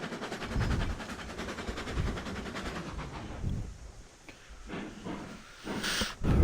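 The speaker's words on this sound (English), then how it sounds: "I gotta go catch the locomotive." A steam locomotive in the video game Railroads Online, giving off a broad hiss and a rhythmic chuffing rumble at close range that eases partway through and then swells again at the end.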